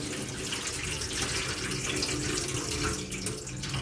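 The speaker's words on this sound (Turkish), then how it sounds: "Mercimeğimizi çok güzel bir şekilde yıkıyoruz." Red lentils rinsed under a running kitchen tap, a steady close splash of water into a sink lasting throughout with no talk.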